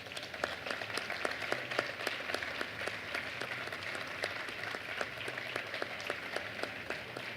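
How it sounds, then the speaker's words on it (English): A press-conference audience at the Valencia Marathon applauds, with dense, steady clapping from a moderate crowd at a fairly even level, distinct claps standing out throughout. "So, big applause for Sebastian Saue."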